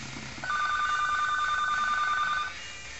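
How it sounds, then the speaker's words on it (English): A telephone rings steadily in repeated electronic bursts, clear and fairly close, running for about two seconds in an otherwise quiet indoor room with no talking. "The phone again! Oh my gosh, it like always rings while I'm doing this."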